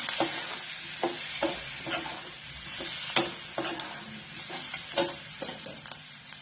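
A ground paste of garlic cloves and dry coconut fries with capsicum in a pan, an even close sizzle broken by regular scraping strokes of a spoon stirring, with no voices present.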